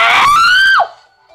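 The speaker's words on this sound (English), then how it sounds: "Scream sounded lit, dude." A single loud, high-pitched human scream rises and holds for under a second, then cuts off sharply, leaving near silence with a faint tail.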